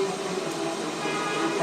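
Subway train in the video game Heavy Rain: a steady mechanical rail hum and rumble with faint screeching tones, continuous and moderately loud throughout.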